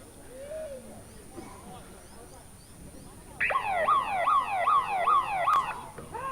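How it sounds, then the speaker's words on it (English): The final siren of a field hockey match sounds loudly as a repeated rising, warbling wail in the second half, following quieter crowd ambience and distant voices. "So that's the final siren"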